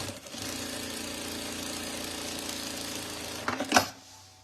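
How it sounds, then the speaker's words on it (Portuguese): A sewing machine runs a second seam along a bag zipper, a steady close mechanical whir for about three and a half seconds, ending in a few clunks as it stops. "eu venho com uma segunda costura junto à cremalheira"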